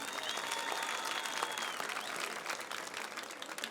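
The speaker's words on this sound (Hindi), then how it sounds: "दानियाल तरीर के लिए एक बार भरपूर तालियां बजाइए प्लीज" An audience at a poetry event at a literature festival in Quetta breaks into loud, sustained applause, dense clapping that holds for several seconds with faint crowd murmur underneath.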